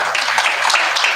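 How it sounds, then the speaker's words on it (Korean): Audience applause at a Korean maritime and port academic policy seminar following a keynote speech, a dense, steady wash of many hands clapping filling the whole short stretch. "다시 한번 오늘 발표를 해주신 해외물류 김주석장님께 뜨거운 박수 한번 보내주시기 바랍니다"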